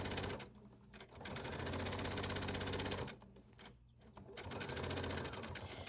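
A domestic sewing machine stitches a Hawaiian shirt placket in steady, rapid rattling runs, briefly pausing once midway before resuming, close and loud without voices.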